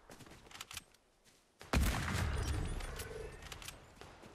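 Gunfire in a Fortnite match: a few scattered shots, then from about the halfway point a loud, sustained burst of rapid firing that slowly fades, with no one speaking.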